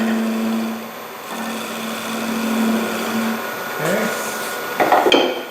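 A scraper tool held at about 45 degrees takes light cuts across a wooden bowl on a lathe, giving a steady whirring hum throughout, with brief louder scrapes near the end.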